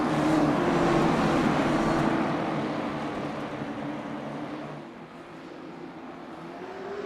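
Late model race cars of the Wild West Racing League under caution at USA International Speedway, a sustained loud engine drone with steady droning pitch, fading slightly midway then holding.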